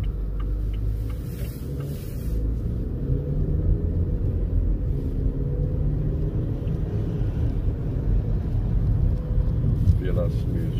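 A 2021 Haval Jolion Luxury SUV pulling away from a standstill, heard from inside as a steady low engine and road rumble that builds slightly, with people talking over it.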